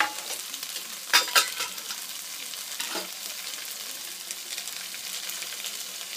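Chopped tomatoes frying in a pan for Punjabi-style pumpkin sabzi, a steady close sizzle with a couple of brief stirring clatters early on, no talk.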